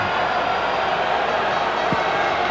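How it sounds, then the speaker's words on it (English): Rugby Union World Cup crowd at Scotland v Tonga roaring after a try, a steady, loud wash of cheering with no break, a few claps poking through. "And the crowd loved it."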